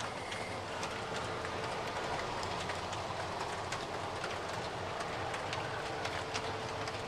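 A 62-car model train of covered hopper cars fitted with Kadee couplers rolls along the track, giving a continuous close rumble laced with fine rapid clicking of wheels and couplers, alone without talk.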